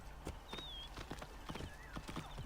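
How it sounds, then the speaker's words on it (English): Horse hooves clip-clop in Assassin's Creed Origins, a quick, steady gallop of sharp hoof strikes at close range, faint overall, with a brief tonal game sound drifting over it. "Get on the damn horse."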